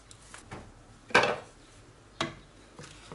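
A spoon stirs sugar into apricot and raisin compote in a pot, a few scattered metallic clinks and scrapes against the pot, fairly quiet with pauses between strokes.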